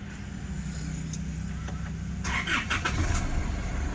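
A 2016 Isuzu D-Max is started by push button: a low idle-like rumble runs under a few faint clicks, then a brief burst of cranking and catching noise near the end, close and fairly loud.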